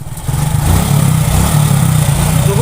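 A motorcycle engine runs steadily nearby, a loud low chugging drone with slight throttle wavering, holding for a few seconds with no voices.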